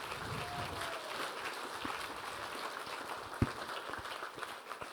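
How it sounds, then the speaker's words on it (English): Audience applause for a guest speaker at an event, a steady broadband patter of many hands clapping throughout, moderately loud and without speech over it. "Let's give a big round of applause for Dr."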